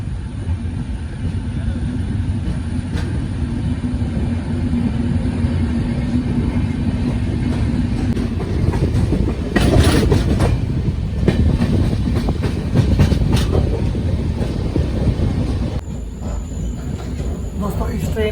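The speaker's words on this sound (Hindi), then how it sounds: "रतनगढ़ से डिपार्चर होता हुआ बाड़मेर सुपरफास्ट एक्सप्रेस का।" The Barmer Superfast Express departs Ratangarh station with loud, continuous rail rumble, rhythmic wheel clatter and occasional squeals, the noise rising midway and then shifting as the coaches roll past.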